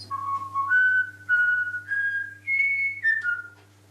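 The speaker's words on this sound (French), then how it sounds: "Je vais vous présenter la Ménate. Elle va vous siffler la Marseillaise." A myna bird whistles La Marseillaise, a thin, clear melody of short sliding notes stepping up and down in pitch, close and alone over a faint low hum.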